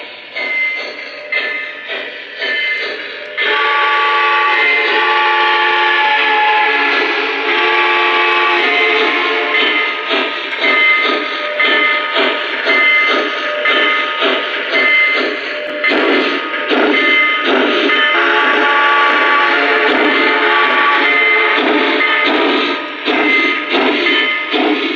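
A model train locomotive's whistle sounds repeatedly, loud and tonal, over a steady, busy mechanical chuffing from the sound generator that runs throughout.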